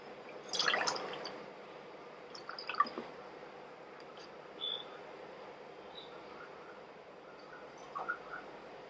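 Water poured from a tumbler into masala kolukattai flour: a soft splash and a few small drips and squishy trickles, quiet and close, with no talking.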